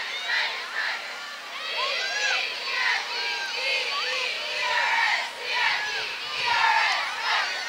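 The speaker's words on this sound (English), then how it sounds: "here's a little cheer for them." High school cheerleaders chant and shout in rhythmic bursts at a Halloween parade in Edwardsville/Glen Carbon. Their young voices rise and fall in waves, moderately distant, over an open outdoor crowd.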